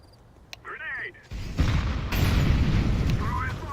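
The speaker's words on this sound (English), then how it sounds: "Grenade!" A grenade blast in the video game Counter-Strike Premier, a heavy booming explosion that rumbles on for a couple of seconds, with a player's voice and game effects heard around it.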